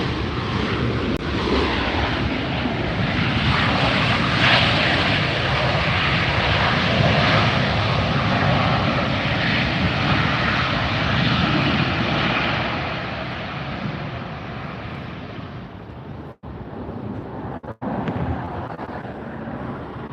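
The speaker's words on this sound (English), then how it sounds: "Here comes our next departure." A Frontier Airlines jet departing LAX gives a loud, sustained engine roar that holds strong for several seconds, then slowly fades as it climbs away, with a couple of brief dropouts near the end.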